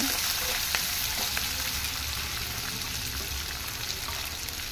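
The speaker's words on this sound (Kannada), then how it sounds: "ಈರುಳ್ಳಿ ಗೋಲ್ಡ್ ಕಲರ್ ಬರೋವರೆಗೂ ಫ್ರೈ ಮಾಡಬೇಕು" Onions and green chillies sizzle in a pan for a beetroot palya, a continuous close frying hiss with occasional soft stirring clicks and no voices.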